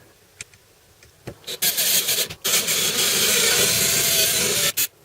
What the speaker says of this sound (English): So I'm just going to drill it